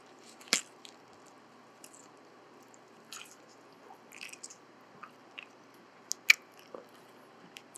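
Gum being chewed close up after a piece is put in the mouth, giving soft wet squishes and occasional sharp clicks at an irregular, sparse pace, quiet against a low steady background hiss.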